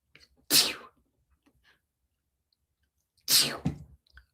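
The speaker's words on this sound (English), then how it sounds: "I have to sneeze." Two sharp sneezes, close by, one near the start and another about three seconds later, with near silence between them.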